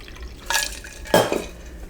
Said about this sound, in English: Now, take your strainer, put it on top. You can pour your beverage.